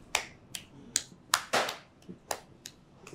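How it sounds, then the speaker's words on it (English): A handful of sharp, separate hand claps ring out in an uneven rhythm, about nine crisp smacks close by in a quiet room during a Bible quiz scene in a Nollywood film. "Clap for her."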